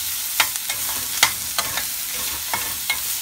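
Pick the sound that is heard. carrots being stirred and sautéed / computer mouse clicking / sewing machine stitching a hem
carrots being stirred and sautéed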